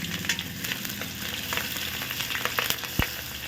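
Chopped onion dropped into hot oil already tempered with dried chilli, bay leaf and cumin, giving a dense, continuous crackling sizzle with a few sharper pops and a spoon tap near the end, close and steady.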